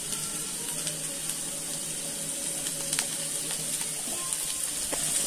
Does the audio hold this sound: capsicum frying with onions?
yes